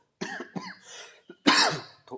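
Several rough coughs in quick succession, close up, with a louder burst midway and a short final cough.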